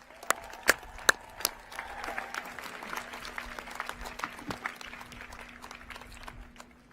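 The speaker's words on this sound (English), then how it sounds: "Please join me in giving all of our faculty a round of applause" Commencement audience at a 2022 university ceremony applauds the faculty, a dense, sustained wash of many hands clapping in a large hall, with a few sharp nearby claps standing out early before the applause settles into a steady roar.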